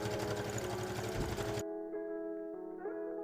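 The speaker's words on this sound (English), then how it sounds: "sew a zigzag stitch across it while it's stretched to cinch it all up around my arm" A sewing machine runs a zigzag stitch over stretched elastic on a dress sleeve, a close rapid mechanical whir that stops abruptly after a second and a half, leaving a faint hum and a few light clicks.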